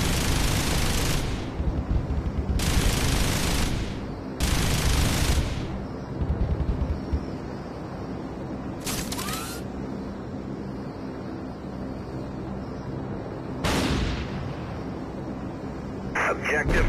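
Heavy gunship cannon fire rains down on zombies in the game Zombie Gunship, sounding in several loud, roaring bursts over a constant low engine drone.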